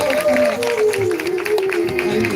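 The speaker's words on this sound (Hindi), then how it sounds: "प्लीज तालियां बजाइए ना" Members of an audience at a live Hindu religious katha recitation clap together, a loud, dense applause with a sustained droning tone running underneath.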